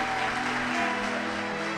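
Church congregation applauding in Monte Caseros, Corrientes, a dense, steady roar of clapping with a held tone beneath.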